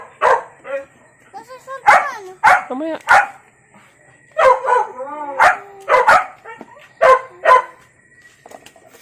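A household dog barks repeatedly in short bursts, loud and close, with yips and whimpers mixed in, while people talk nearby in between.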